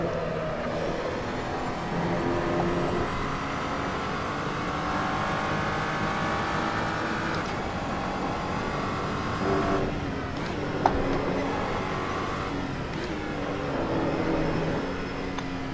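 SCG 003C race car in Assetto Corsa, its engine droning steadily under throttle through a corner, a close, sustained mechanical whine rising and falling slightly with one brief sharp blip near the end.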